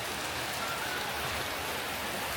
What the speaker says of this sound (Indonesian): Nyampe langsung hujan.